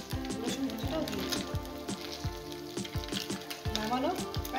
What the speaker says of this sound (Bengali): এই মাছ ভাজার মধ্যে রসুন কুচোটাও দিয়ে